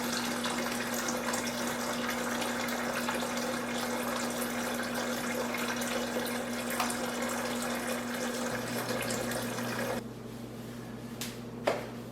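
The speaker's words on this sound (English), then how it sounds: "After you replace your water filter, don't forget to flush out your water system for at least 5 minutes." Water runs steadily from the dispenser of an LG French door refrigerator while the system is flushed after a filter change, a constant hiss with a low hum that ends abruptly near ten seconds, followed by a couple of faint clicks.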